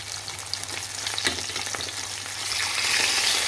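Hilsa fish frying in hot oil in a pan and being turned over, a loud, steady, close sizzle that swells a little toward the end, with no voices.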